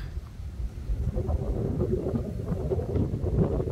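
Steady low wind buffeting the microphone on a river sand bar, a continuous rumbling roar with gusty swells and no talking.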